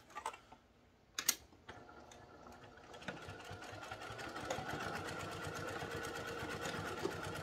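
A sewing machine stitches fabric at a 1.6 millimeter stitch length, a fast steady rhythmic whirring clatter that builds up after a few handling clicks. Close and fairly quiet.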